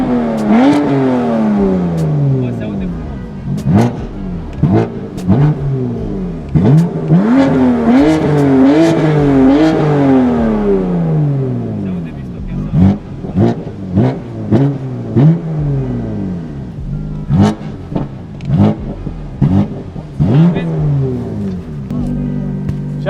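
A BMW M2 CS engine revs repeatedly nearby with a deep, raspy aftermarket exhaust note, rising and falling in sharp bursts, while people talk over it.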